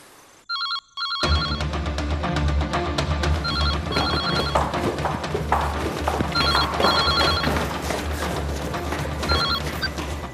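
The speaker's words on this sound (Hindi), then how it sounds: "अर्जुन साहब, फोन तो अब तक नहीं आया।" A telephone bell rings in a Hindi crime drama, several bursts of bright ringing repeated across the scene over a loud, steady backdrop.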